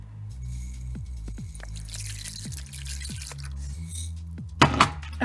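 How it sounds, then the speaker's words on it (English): Dry rice is poured into a bowl of water, giving scattered drips, small splashes and patters against a low background hum. A brief louder rattle comes near the end, and no one talks. "I'm going to pour some rice into that"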